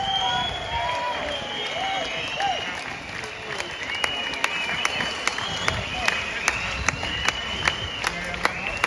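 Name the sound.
crowd applauding at a London protest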